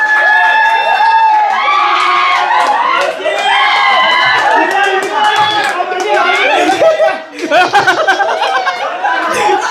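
Group of friends on a fun outing with games and dancing, cheering, shouting and laughing together with scattered clapping, loud and close, dense overlapping voices throughout.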